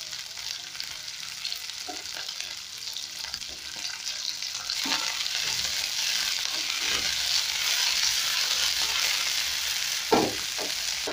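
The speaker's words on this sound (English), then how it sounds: "we are just going to brown each and every side of the meat" Pieces of goat meat brown in a pot with a steady, loud sizzle, while occasional knocks and scrapes of a utensil sound against the pot.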